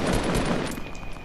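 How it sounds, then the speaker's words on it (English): Fortnite battle royale gunfire in a squads match, rapid overlapping shots in a dense burst that gradually thins and fades over about a second. "Why is all this gunshot happening?"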